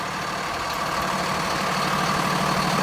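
The diesel engine of a 2018 Showhauler Super C 4X4 motorhome, built on a four-wheel-drive M2 chassis with 350 horsepower, rumbles at a steady idle, a deep, even drone heard up close and growing slightly louder, with no voices.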